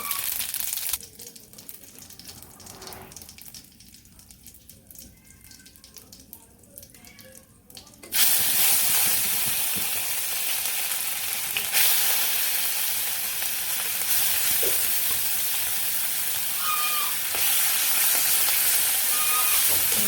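Bay leaves and cumin seeds hit hot oil and burst into a loud, steady sizzle that holds without a break, following a quieter stretch of low kitchen noise.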